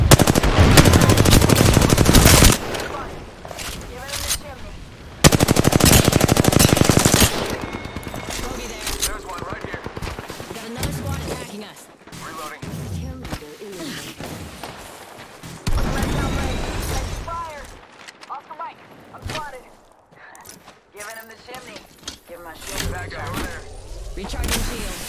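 Gunfire in the Apex Legends video game comes in long, loud automatic bursts, then in shorter scattered volleys and single shots, with game effects and brief voices between them.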